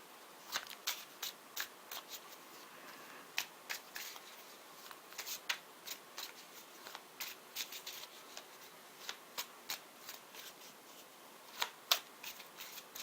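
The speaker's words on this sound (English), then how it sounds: "let's pick clarifying cards for these." Tarot cards being shuffled close up, soft papery riffles and slaps recurring in an uneven rhythm, quiet and alone without talk.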